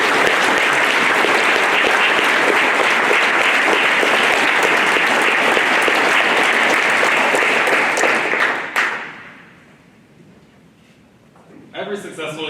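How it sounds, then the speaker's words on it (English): An audience at a youth apprenticeship banquet applauds loudly and continuously for about nine seconds, then the clapping fades out quickly into near silence before faint room noise returns. "Please give a round of applause to all of our youth."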